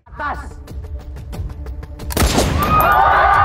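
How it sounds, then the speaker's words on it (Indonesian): A rapid series of sharp sniper rifle cracks in a film scene at a street protest, followed by a heavier blast with a lingering rumble and crackle, in a dramatic cinematic mix. "seorang penembak jitu mengawasi aksi demo itu dan kemudian melakukan sebuah tembakan"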